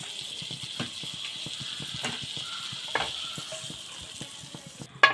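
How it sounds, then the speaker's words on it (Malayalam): Unsalted butter melting in a pan gives a steady, soft sizzle with light crackle, punctuated by small rhythmic clicks and taps throughout, ending in a sharper knock. "ഒരു പാത്രം വെച്ചിട്ടുണ്ട് ഇതിൻ്റെ അകത്തേക്ക് നമുക്ക് ബട്ടർ ഇട്ട് കൊടുക്കാം"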